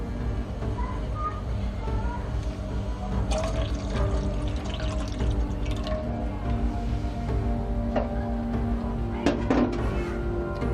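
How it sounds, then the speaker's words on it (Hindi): Milk poured into boiling tea water in a pan on a village kitchen stove, a soft liquid pour and bubbling with faint clinks over a steady low burner rumble, close and moderately quiet, with no talk. "अब इसमें उबाल आई है, इसमें हम दूध डालेंगे।"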